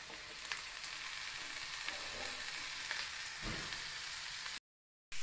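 Chopped tindora (ivy gourd), about 500 grams, goes into a hot pan and sizzles in a steady, close frying hiss that holds evenly for several seconds, then cuts off abruptly.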